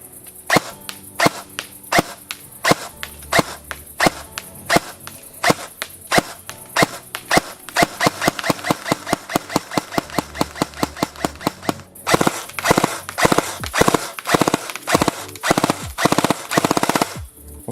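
An airsoft gun fitted with an Acetech Predator X tracer unit fires steady semi-auto shots, then speeds into rapid full-auto bursts with sharp, snappy cracks, close and clear with no talking.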